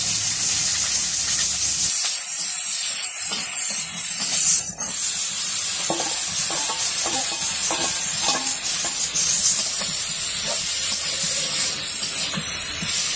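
Bitter gourd fries in a pan, village style, with a loud, dense hiss and sizzle that runs throughout. Soft stirring taps come through in the middle, and nobody speaks.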